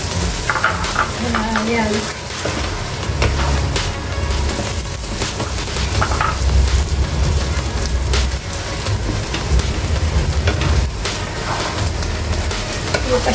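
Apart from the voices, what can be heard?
stirring biko rice cake with coconut milk in pan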